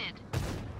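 A tank cannon fires in the console version of World of Tanks, one sharp, loud blast with a brief rumbling tail after a moment of quieter game sound.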